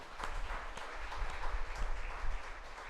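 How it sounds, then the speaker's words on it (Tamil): A church congregation clapping hands in thanks to the Lord, a quiet, fairly steady patter of many hands at a distance, continuing evenly without talk. "கைத்தட்டி ஆண்டவருக்கு நன்றி சொல்லுங்கள்."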